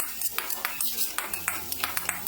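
A spoon stirs chicken fried rice in a pan after soy sauce, pepper powder and vinegar go in. Regular metallic scraping strokes repeat about every quarter second, close and fairly loud, with a low hum underneath.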